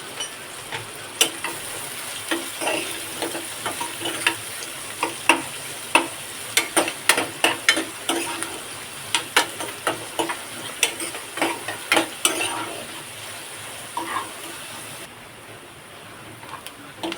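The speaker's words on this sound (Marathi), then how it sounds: "एक मोठा कांदा घेतलाय चिरून बारीक. पहिल्यांदा आपण तो भाजून घेऊया." Finely chopped onion frying in a pan with cumin tempering, a steady sizzle broken by sharp ticks and clicks of stirring at close range, with no talk.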